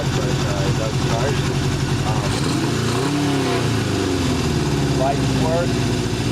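A 1978 Honda CB 750 motorcycle engine runs steadily and loudly up close with a rough, throbbing idle throughout, while people talk over it.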